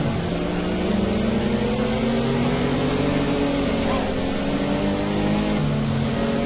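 Tuned racing car engine in a driving video game, a steady loud roar with rising and falling revs and harmonic whine as the car slides through twisty corners, continuous throughout.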